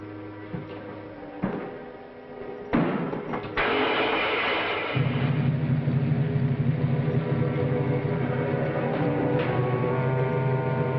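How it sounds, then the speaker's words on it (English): An old motor clatters as it is started, with a few clunks before it catches, then settles into a steady, close, droning run that continues to the end. "Start the motor."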